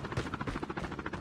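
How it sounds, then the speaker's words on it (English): A deployed chopper gunner helicopter in Call of Duty gives off a dense, fast-pulsing rotor thrum, loud and continuous through a brief moment of game audio. "Friendly deployed chopper gunner."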